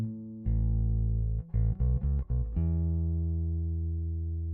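Track pushed hard through Softube tape saturation at 7.5 ips tape speed, a sustained thick tone with a quick burst of choppy stabs in the middle, then a long held note slowly fading.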